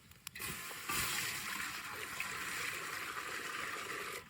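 Water poured into a pot while cooking cauliflower in a traditional village kitchen, a steady splashing pour lasting a few seconds, close and alone.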